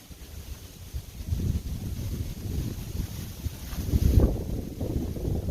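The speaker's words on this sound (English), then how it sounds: "As the wind picks back up." Strong wind buffets the microphone on a Pennsylvania disc golf course, a continuous low rumbling roar that swells into louder gusts toward the end, with no talking.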